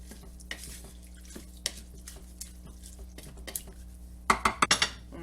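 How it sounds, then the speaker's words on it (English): Rice, onions, carrots and spices being stirred in a pot, with a spoon scraping and clinking against the sides in scattered knocks and a quick burst of sharp taps toward the end. "Now we're going to add the onions and the carrots and the spices in the pot with the rice. Let's give that a stir."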